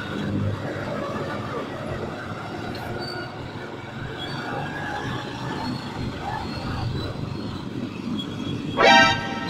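A passing train near the old zigzag road at Atimonan rumbles steadily and loudly, with wheel and car noise throughout and a short, sharp horn toot near the end.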